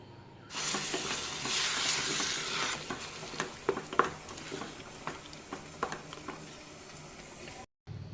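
Ground tomato puree, two medium tomatoes, hits a hot pan for a chili gravy and starts a soft steady sizzle, followed by a series of sharp scraping clicks as a spoon stirs it, close and alone.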